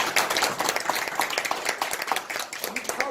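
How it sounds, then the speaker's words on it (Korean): Audience applause at a Korean community meeting honouring a professor, a few seconds of fairly faint, busy clapping with scattered voices in the room. "박수 한번 더 드리겠습니다"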